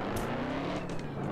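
A car drifts in the online racing game Drive Zone Online, its engine loud and revving in a short, dense burst with hints of tire noise, and no voices.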